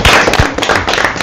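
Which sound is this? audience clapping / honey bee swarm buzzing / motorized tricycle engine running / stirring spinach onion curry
audience clapping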